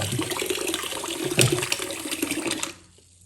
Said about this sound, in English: Just give it a good rinse